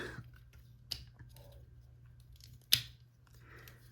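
Legs of a plastic Gargomon transforming toy are turned, giving two distinct sharp clicks about two seconds apart among faint handling rustle, close up.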